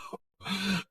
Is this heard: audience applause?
no